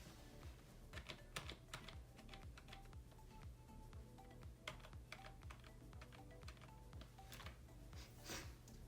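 Computer keyboard keys clicked in quick, uneven bursts while setting its RGB lighting zones on a budget gaming setup, the sharp taps moderately close over a steady low background hum.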